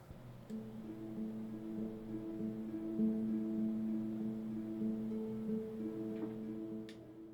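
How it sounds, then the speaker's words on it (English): A two-note harp loop from a sample library repeats softly and steadily, plucked tones alternating in a gentle cycle at low volume with a faint background hiss. "This is a 2-note loop from a harp library,"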